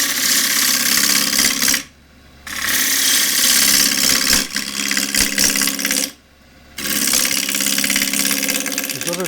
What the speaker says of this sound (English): The wing of the 3/8 spindle of bowl gouge.